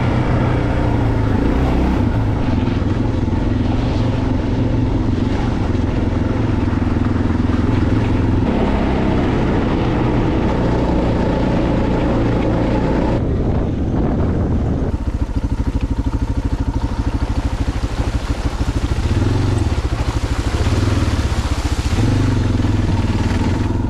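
A motorcycle rides a dirt trail near a remote lake, its engine droning loudly and continuously for the whole stretch with clattering and rumbling from the rough ground and shifting throttle.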